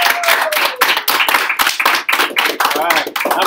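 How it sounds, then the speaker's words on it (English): Students giving a round of applause at an interview: close, lively clapping from a small group, rhythmic and bright, with people talking over it throughout. "please, round of applause."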